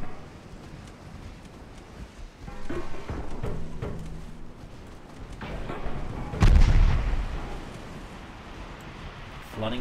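Warship main guns fire in the naval video game Ultimate Admiral Dreadnoughts, distant booms rolling under a steady rumble with one heavier blast midway, while a voice talks throughout.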